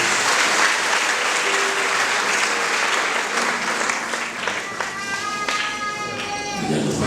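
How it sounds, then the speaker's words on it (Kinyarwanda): A church congregation at a choir gathering applauds loudly and continuously for several seconds, the dense clapping thinning slightly toward the end, with faint voices beneath. "Komera Imana amashyi menshi"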